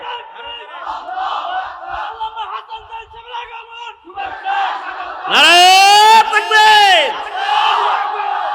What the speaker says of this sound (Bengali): তাই আমার এক কথায় একটা তাকবীর দে, শুরু দে।